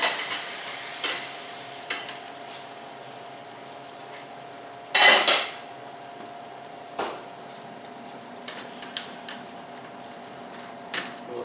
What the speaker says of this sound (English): now I'm just going to slip it right back into the pan